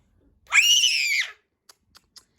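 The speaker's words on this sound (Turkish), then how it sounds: "nasıl bağırıyor?" A child lets out a loud, high-pitched scream lasting under a second, followed by a few faint short clicks, with no talking.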